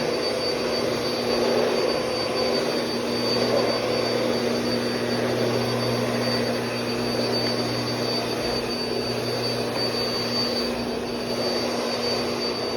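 A Bissell Power Force Compact vacuum cleaner runs steadily in an apartment, a loud, close, unbroken roar with a thin high whine and a low hum, no pauses or voices.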